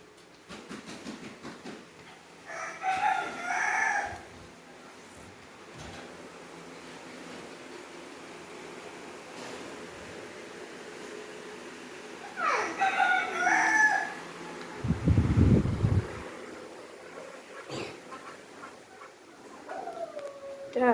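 A household rooster crows twice, roughly ten seconds apart, fairly near and ringing out over quiet surroundings, with a brief low thump and faint background noises between.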